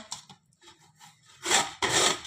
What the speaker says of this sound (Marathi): आता आपण ही कैरी या किसणीने किसून घेऊया